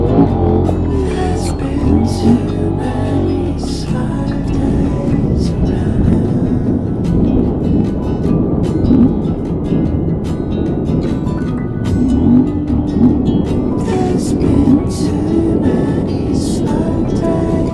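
A KTM 790 enduro motorcycle rides through desert sand in Morocco, its engine a steady, close, unbroken roar with churning, rumbling road and wind noise that holds for the whole stretch.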